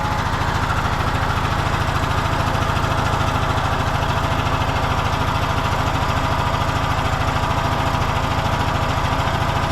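A small gasoline engine with its fuel shut off runs at a steady idle close by, with a fast even chug and a slight surge, alone with no talk.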